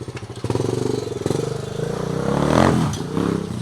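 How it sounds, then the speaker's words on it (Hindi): A freshly repaired dirt bike engine runs loud and close as it is ridden, its buzzing motor note rising and falling with throttle changes and a sharp rev building near the end. "तो भाई छोटा भाई चला रहा है अपनी बाइक,"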